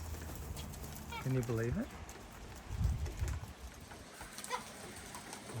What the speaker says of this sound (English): The whole flock's arrived. Boom. 1 cockatoo and 30 Corellas.